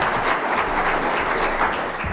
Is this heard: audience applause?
yes